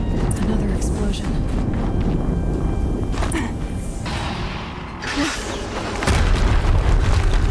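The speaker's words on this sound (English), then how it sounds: "Another explosion." Explosions in the video game Horizon Zero Dawn, heavy booms and thuds over dense, continuous game noise that swells again near the end.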